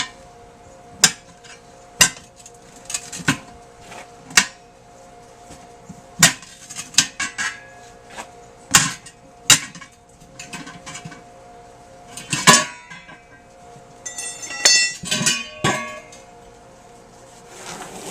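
Metal spoon used as a tire lever to pry a bike tire bead off the rim, a crowbar also on hand; sharp clinks and metallic taps repeat irregularly at close range, with a dense scraping burst near the end.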